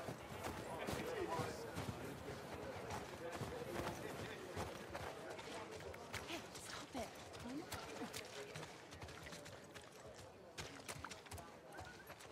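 Horse hooves clip-clop steadily on the ground in The Last of Us Part II, a busy run of close steps with a possible whinny, heard under ongoing talk.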